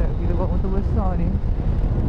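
Air rushes into a motorcycle helmet while riding a Yamaha MT-09, making a heavy, constant low roar and buffeting. A rider talks over it the whole time.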